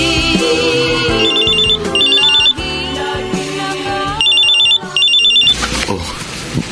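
A cellphone ringtone plays a bright melodic tune, with high warbling beeps that repeat in bursts over a musical backing and stop near the end.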